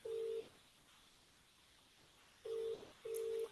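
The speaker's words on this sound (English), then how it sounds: "Is your phone ringing?" A telephone ringback tone is heard over a call line, a faint steady electronic tone in short evenly spaced pulses against a quiet hiss.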